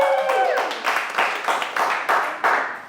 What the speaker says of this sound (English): That's why I brought her for the applause